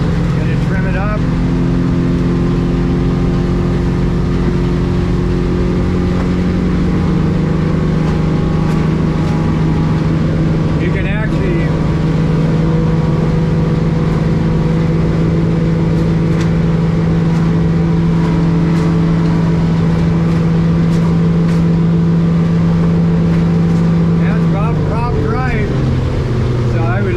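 A 2024 22-foot North River Seahawk boat running at speed under a Yamaha F200 outboard, a loud steady engine drone with water rush and slight pitch shifts, under talking.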